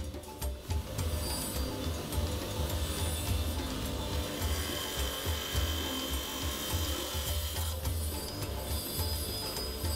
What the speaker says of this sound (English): the stone is first trimmed to a more workable size and shape